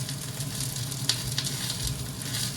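Home grown oyster mushrooms sizzle in a hot pan, a steady crackling hiss with a few sharper pops and some stirring, heard up close with no voices.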